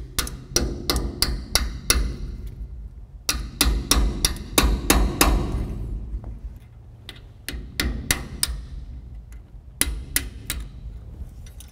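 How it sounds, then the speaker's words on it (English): A steel punch is hammered against the tabs of a star washer on a trailer axle wheel end, bending them back to the adjustment nut: bursts of sharp, ringing metallic strikes in quick runs, close and loud, with brief pauses between. "Now we're gonna grab our punch and we're gonna bend two of these tabs back to the adjustment nut."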